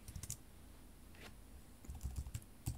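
Computer keyboard keys clicking in a short burst, then a few scattered taps and another cluster of quick presses, close and fairly crisp with no talking.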